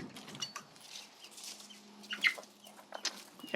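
Chickens cluck in a chicken house, scattered soft clucks and short calls at close range, quiet and irregular, with no talk.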